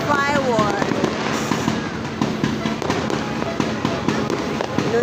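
Fireworks bursting on New Year's Eve, with repeated sharp pops and crackling blasts fired in steady succession at close to moderate range, with people talking over the explosions.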